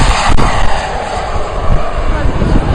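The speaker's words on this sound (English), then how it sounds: "Jetcat p120 engine in it from Rob Gardner" A composite RC jet powered by a JetCat P120 turbine roars past, a loud continuous broadband turbine rush with a steady high whine, wind buffeting the microphone throughout.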